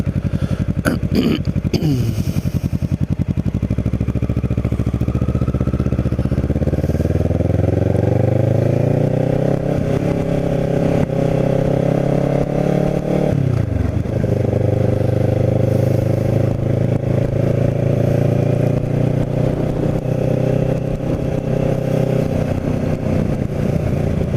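A Kawasaki Ninja 650R motorcycle engine drones loudly and continuously, its pitch climbing and dropping as the rider shifts through gears at speed through the Wildwoods.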